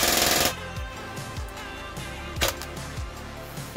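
An airsoft gun with a custom motor fires a loud half-second full-auto burst into an old towel, followed by a few scattered sharp clicks and mechanical taps.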